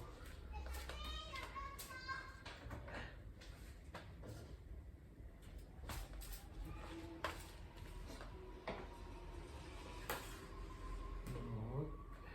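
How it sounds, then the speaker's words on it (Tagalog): Children play and shout outdoors at night, some riding bikes, their high voices and squeals scattered at a steady distance over a constant background hum with occasional knocks. "Maingay yung mga bata."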